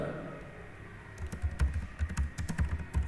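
Computer keyboard typing while entering TypeScript code for a calculator program, a quiet start followed by a burst of quick, irregular close key clicks.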